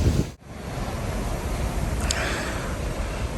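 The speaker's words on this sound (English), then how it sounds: "We definitely found another windy spot." Steady wind rushes across the microphone in a broad, constant roar after a short gap, with no talking, at a windy spot in Uruguay during a motorbike trip.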